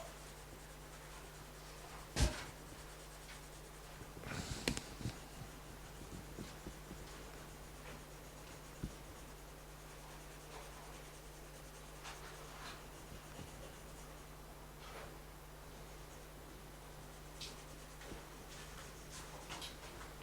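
Pencil shading on paper while sketching flowers for a watercolor painting, a faint continuous scratching with a few sharper taps, quiet and close.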